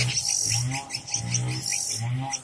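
A caged oriental magpie-robin (kacer) gives a run of bright, high chirps and whistled phrases in close succession, over lower warbling tones, close to the listener.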